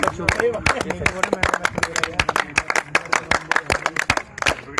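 Scattered, fairly soft clapping for the team captain at a Nagesh Trophy cricket match between CAB UK and Pondicherry: a steady run of sharp hand claps over about five seconds, with voices talking underneath.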